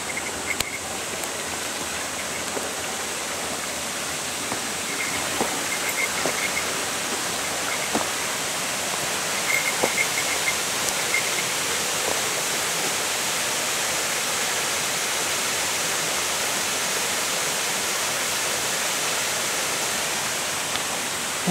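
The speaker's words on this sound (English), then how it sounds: "bringing the water down from the waterfall" A waterfall pours into a pool, a steady broadband rush of falling water that stays even and fairly near throughout, with faint insect chirps and occasional small clicks beneath.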